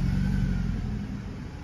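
A BMW 3 Series E90 engine runs in a steady, loud, low rumble up close, with a brief rising rev at the start and no voices.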